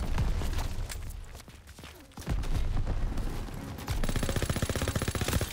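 Rapid automatic gunfire from a heavy-recoil weapon in the World War II shooter Call of Duty: WW2, loud and close, ending in a fast, even stutter of shots with a booming low end.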